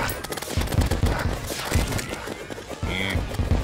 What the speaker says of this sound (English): This rocket launcher is fucking pathetic.